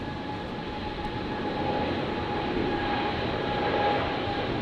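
Steady broadband roar of a Qantas airliner rolling for takeoff on runway 19 right at Brisbane airport, heard from a distance, a constant rumble that swells slightly toward the end, with no talk.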